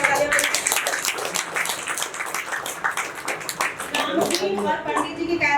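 During cast introductions at a Hindi stage play, an audience claps in brisk, dense bursts while a person keeps talking over the applause.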